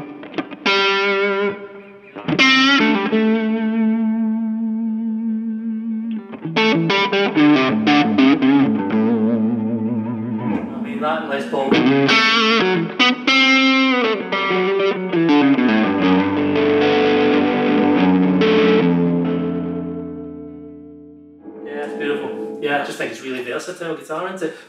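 A 1974 sunburst Gibson Les Paul Signature electric guitar played through distortion: loud, close chords and melodic riffs with sustained notes, broken by a few short pauses and one fade near the end.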